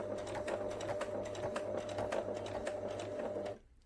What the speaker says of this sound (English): I'm just going to sew off the end and then a few reverse stitches to secure